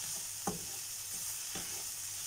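Seasoned eggplant tossed in a pan with ghee, a soft continuous sizzle with two distinct scraping stirs, close but quiet.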